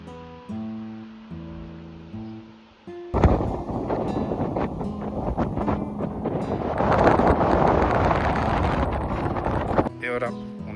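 Wind on a hiking trail on Minorca batters the microphone in a loud, continuous roar for several seconds, with quieter tonal music before and after the gust.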